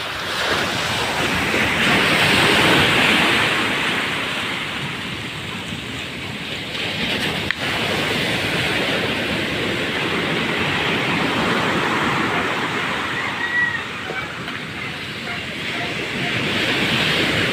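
Surf after a typhoon washes continuously onto a beach, a broad roaring wash of breaking waves with wind buffeting the microphone, steady and close, with no voices.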